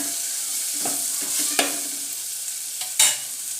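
Rice with chili powder, salt, masala and turmeric fries in hot oil for a Marathi-style spiced rice, a soft steady sizzle broken by a few sharp stirring scrapes and clatters, close and alone.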